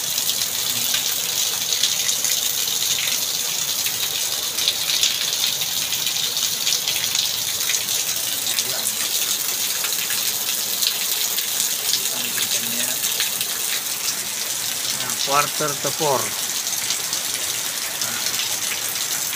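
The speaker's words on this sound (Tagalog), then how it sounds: "madaling araw, lakas ng ulan" Steady, heavy rain pours down before dawn in a dense continuous hiss, with a voice briefly speaking over it.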